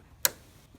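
A RAM memory module snaps into a motherboard slot with a single sharp, close click in an otherwise quiet moment.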